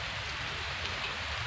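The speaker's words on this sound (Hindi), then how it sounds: "जैसे जैसे बारिश हो रही है।" Steady rain falls on open fields, a soft continuous hiss of drops with no pauses, fairly quiet and with no voices.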